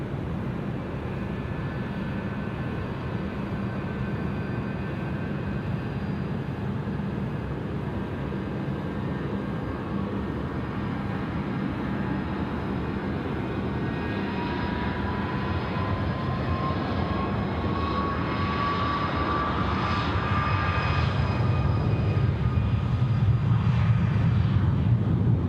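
Heavy jet aircraft at Sydney Airport, a continuous engine roar with a whining tone that slowly rises and grows louder, heard at a distance with no talk.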